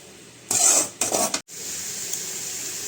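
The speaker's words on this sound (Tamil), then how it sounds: "வாங்க ஃப்ரெண்ட்ஸ், இதை நல்லா வதக்கி எடுத்துக்கலாம் ஃப்ரெண்ட்ஸ்" Radish sautés in a pan for a South Indian poriyal, with two short bursts of scraping as a spoon stirs through it against a low, steady sizzle, close and without speech.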